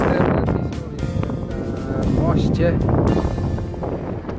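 Heavy wind buffets the microphone with loud rumbling gusts by the Vistula River in Warsaw while someone talks throughout in Polish, his voice partly masked by the blustering noise.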